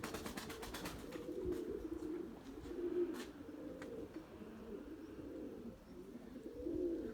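Pigeons coo in low, repeated throaty bursts, several rolling calls rising and fading over a constant outdoor background, moderately near and without voices.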